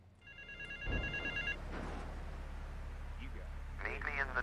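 Payphone in Torrington ringing in GTA III, a repeated electronic bell trill over about a second and a half, then muffled game voices and a low background hum take over.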